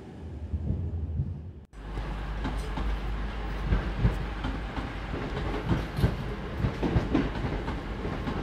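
A train rolls into Crewe station, its rumbling wheels giving a steady clickety-clack with irregular thuds and rattles heard close from inside the carriage.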